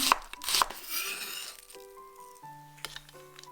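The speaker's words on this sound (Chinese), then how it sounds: "洋葱切丝" A knife slices an onion into strips for a French pumpkin soup, giving a few quick, close chopping taps at the start before the cutting gives way to steady tonal notes.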